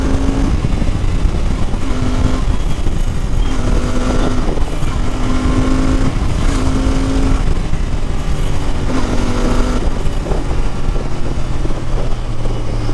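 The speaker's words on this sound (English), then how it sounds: "I'm ripping the throttle, but all I'm trying to do is to check the acceleration and the pull that we feel" A Royal Enfield Continental GT 650 motorcycle accelerates hard with the throttle wide open, its engine note climbing steadily through repeated rising pulls. A loud, continuous drone runs close by with no speech.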